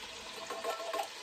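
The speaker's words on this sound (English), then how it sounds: "It's pretty hot for it to be making that sizzle sound." Steady, crackling sizzle of beef roast frying in a hot preheated Dutch oven, close and continuous with no talking.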